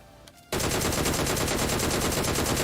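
Sustained automatic gunfire bursts from a battle royale video game as an enemy gets knocked down, a loud continuous rattle that starts abruptly after a brief quiet moment and holds steady to the end.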